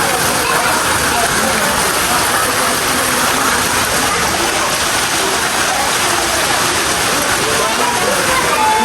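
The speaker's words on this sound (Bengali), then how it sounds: "আজকে বৃষ্টিতে শিল পড়ছে" Heavy rain mixed with hail pours down steadily during a thunderstorm outdoors, a dense continuous roar that stays loud throughout with no clear gaps.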